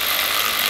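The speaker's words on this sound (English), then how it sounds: "We'll go ahead and hit these with our right angle impact." Steady, continuous whir of a right angle impact wrench snugging 10mm bolts on a 6BT Cummins turbo diesel cylinder head, loud and close with no talk.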